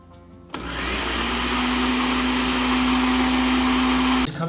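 Blender whirs crepe batter with flour and salt, switching on abruptly and running as a loud, steady motor whine with a sustained tone for about four seconds before cutting off.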